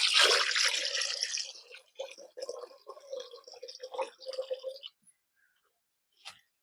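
Water pours in a loud rush at first, then trickles and drips unevenly into a container of plant-feed mixture before stopping, with a small clink at the end.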